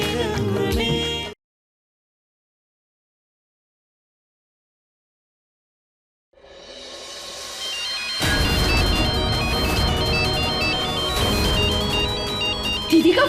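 A phone ringtone plays briefly and cuts off, and after several seconds of silence a melodic ring tone rises again and continues loudly to the end, heard alone without voices.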